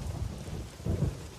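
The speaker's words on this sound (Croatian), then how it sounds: "Kiša." Thunder rumbles with rain falling, two low swells of storm noise at close range, the second louder, with no voices over it.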